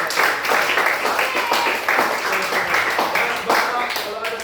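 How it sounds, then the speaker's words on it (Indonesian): Classroom applause at the end of a lesson, dense, loud rhythmic clapping from a group that continues steadily throughout, with a voice heard beneath it. "Tepuk tangan untuk Bapak"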